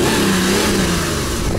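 A car engine with its factory exhaust revs loudly and close in a short, sustained throaty drone, with no speech over it.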